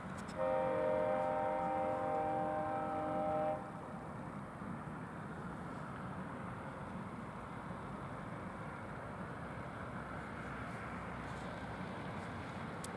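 A GO train on rail tracks in cold weather, a horn sounding briefly at the start, then a steady, low rumble of rolling rail cars, fairly distant and even in level.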